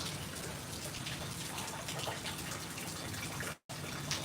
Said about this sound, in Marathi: बघा कसा पाऊस पडला आहे भरपूर आणि पाऊस आता मूळ मूळ चालूच आहे